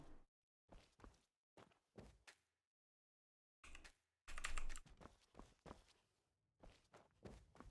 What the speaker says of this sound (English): All you can hear is the footsteps of the guards